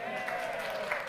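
Brief applause from a congregation at a Friday night Shabbat service in a temple, a soft wash of clapping and cheering under a speaker's voice.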